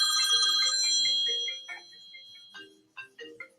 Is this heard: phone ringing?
yes